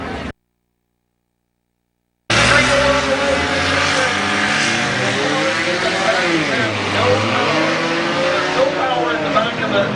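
Race cars rev and roar together at Midvale Speedway as a chain race gets underway, a loud continuous engine drone with shifting pitch after a brief silence, under a distant announcer's voice.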